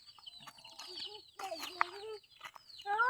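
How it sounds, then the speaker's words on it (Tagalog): Backyard chickens and a chick cluck and cheep softly around feeding time in a rural yard, scattered close calls over faint background noise, with one sharp peep near the middle. "Papakain doon siya ng mga manok."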